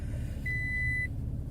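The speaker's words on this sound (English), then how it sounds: "I'm sorry for the beeping." A single steady electronic car seatbelt warning beep holds for about half a second over a low engine hum, fairly quiet, no voices.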